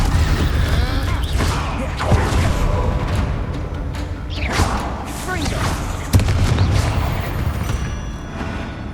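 A Confringo blasting spell explodes in the Hogwarts Legacy video game, with booms and heavy thuds in a busy battle mix while voices talk over the action.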